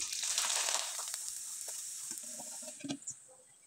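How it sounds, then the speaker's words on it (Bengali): Rice-flour pitha cakes frying in hot oil, a bright close sizzle that slowly fades, with a few light bubbling pops and stirring clicks toward the end. "এবার আমি কয়েকটা পিঠা আপনাদের তেলে ভেজে দেখিয়ে দেব"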